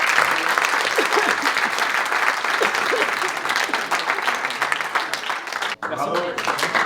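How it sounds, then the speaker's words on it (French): A crowd gives a young designer a dense, sustained round of applause, loud and close throughout, with voices talking over the clapping toward the end. "un tonnerre d'applaudissements, s'il vous plaît"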